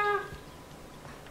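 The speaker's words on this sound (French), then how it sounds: "Un petit chat!" A small cat in the video game Hogwarts Legacy gives one short, clear meow right at the start, followed by quiet game ambience.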